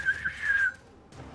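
A voice imitates a high-pitched whistle, a rising then sustained piping tone that wavers for under a second before stopping, followed by quiet.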